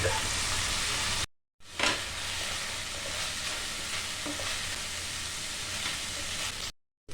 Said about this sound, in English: till the meat gives out its water and starts absorbing it back in the high heat